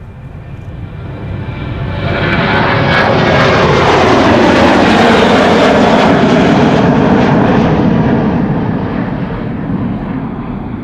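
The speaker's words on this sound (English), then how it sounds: "hear the airplanes, you hear the grass rustling" A loud propeller plane drones overhead at Schiphol Airport, swelling as it passes close and then slowly receding, with a steady airy roar throughout.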